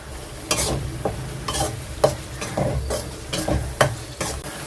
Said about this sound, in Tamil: இந்த உருளைக்கிழங்கு இந்த பேஸ்ட் எல்லாம் பச்சை வாசனை போடுற அளவுக்கு கலரி விடணும்